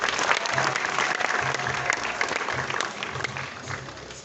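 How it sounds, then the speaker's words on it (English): Audience applause at a Dreamworld big cat show, steady clapping from a crowd in an outdoor venue, moderately distant with a low hum underneath. "make sure you give them a bit of a round of applause"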